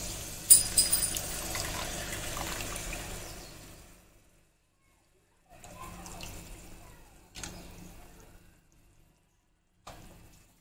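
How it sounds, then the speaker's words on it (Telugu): Tamarind juice is strained by hand and poured into a pot of fish curry. A steady stream runs for about four seconds, then comes in short bursts of splashing and trickling separated by quiet pauses. "చింతపండు రసాన్ని యాడ్ చేసుకుందాం"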